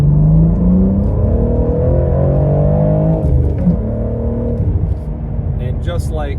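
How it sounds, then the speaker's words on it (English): 2022 BMW M3 G80 with a six-speed manual accelerating in second gear, a loud, close engine note rising in pitch and then easing off, with a voice briefly heard. "So here's a second gear pull."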